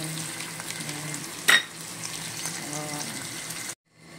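Tomatoes frying in oil in a pan with eggplant, a steady close sizzle with a sharp clatter partway through, then sudden silence near the end.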